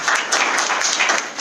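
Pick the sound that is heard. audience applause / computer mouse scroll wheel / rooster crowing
audience applause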